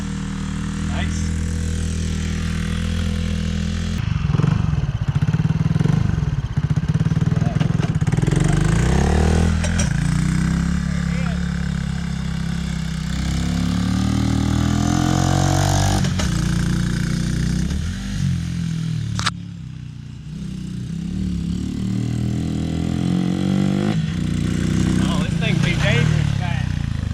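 A Coleman AT125UT ATV with a swapped-in engine runs and revs loudly nearby, its throttle rising and falling as it moves through gears. People talk over the engine noise throughout.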